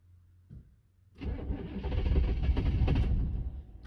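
A 1982 Oldsmobile diesel engine cold-starts with weak glow plugs: a short cranking burst, a pause, then the engine catches and settles into a loud, rough, clattering run close by.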